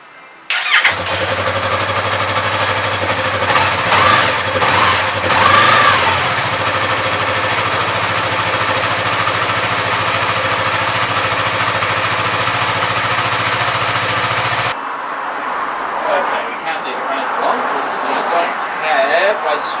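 Engine of a badly crashed Yamaha R3 motorcycle with busted radiators starting up and running at a loud, steady idle with a brief rev, then cutting off abruptly, while someone talks over it.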